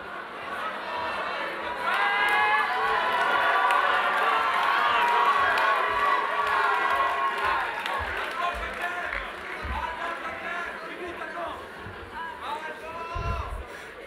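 A crowd at the MUNL 2025 closing ceremony cheers and jeers in a loud, sustained mass of shouting and whistling that slowly fades, with scattered claps and thumps, and a voice speaks over it.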